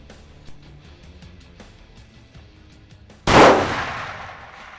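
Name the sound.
rifle gunshot while hunting whitetail deer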